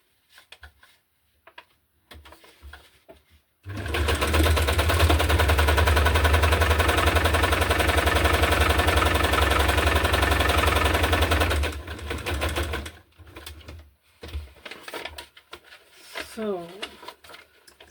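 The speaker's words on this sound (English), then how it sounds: "I just want to sew around again. Maybe using a zigzag stitch this time to give it a bit more extra." Sewing machine running a zigzag stitch around hinged paper for a hardcover junk journal, a steady rapid loud rattle lasting about eight seconds, with quieter handling and brief talk before and after.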